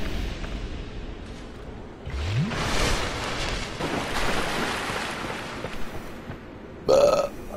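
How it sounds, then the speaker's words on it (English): A person gives a long, loud, rumbling burp that lasts several seconds, followed a few seconds later by a shorter belch, during a Dark Souls 2 livestream. "I don't know why I'm burping."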